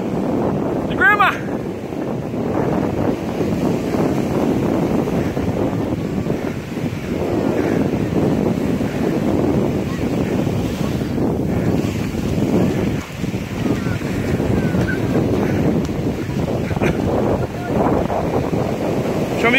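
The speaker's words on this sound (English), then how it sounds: "Show me you can jump over the waves, Dan." Waves surge and break on a Welsh beach as strong wind buffets the microphone in a steady, loud roar, with people's voices mixed into the noise throughout.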